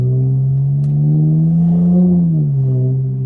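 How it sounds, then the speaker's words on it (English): A tuned Dodge Charger SXT on back roads in Mexico gives a loud, close, low exhaust drone that swells and then drops away as it downshifts, with a rumbling burble underneath. "them downshifts are something different"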